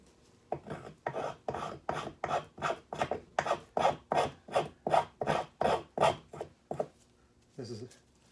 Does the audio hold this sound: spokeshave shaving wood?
yes